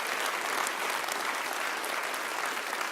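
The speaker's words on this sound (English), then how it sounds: "Let's give him another round of applause." Sustained audience applause after a live stage performance at an evening event, dense steady clapping filling the whole stretch at an even level with no voices over it.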